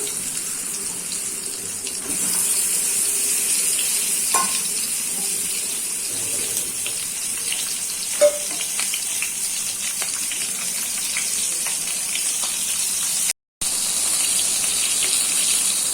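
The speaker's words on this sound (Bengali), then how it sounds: "একটা একটা করে পটল দিয়ে দেবো কড়াইতে পটলগুলো আমি ভেজে নিচ্ছি" Pointed gourd (potol) fries in oil in a wok with a steady, even sizzling hiss that runs throughout, broken by a few sharp pops.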